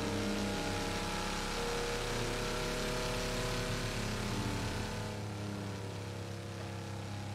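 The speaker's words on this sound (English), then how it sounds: "That car is loud as shit." A loud car engine in a racing video game drones and revs continuously, close and dominant, with a slight drop in pitch toward the end.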